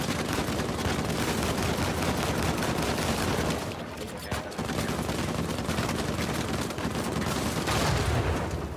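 Sustained, loud gunfire in the Uncharted 4 video game, dense overlapping shots with a brief lull near the middle before the barrage resumes, with no speech over it.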